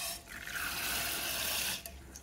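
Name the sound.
water poured over mung dal lentils to soak them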